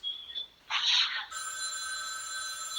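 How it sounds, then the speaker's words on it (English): A telephone rings indoors with a steady electronic tone that starts after a brief burst of noise, loud and close, with no voices over it. "The phone's ringing."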